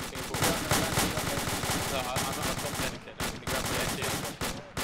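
Dense, rapid gunfire in the military game ArmA II, sustained bursts and overlapping shots close and loud, with voices talking over them.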